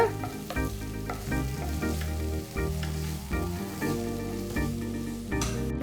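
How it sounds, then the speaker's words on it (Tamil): Steady loud sizzling of onion, garlic and ginger sautéing in a hot pan, with occasional stirring scrapes and clatter, continuous throughout with no talking. "இதெல்லாம் சேர்த்து நல்லா வதக்கிக்கோங்க"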